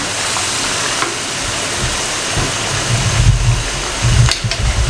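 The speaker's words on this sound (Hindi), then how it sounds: "इसके अंदर तकरीबन 2 से 3 मिनट भुनाई कर लें" Two kilograms of washed chicken frying in a pan for a restaurant-style chicken gravy, giving a steady, close broadband sizzle with low crackling bursts that swell in the last seconds.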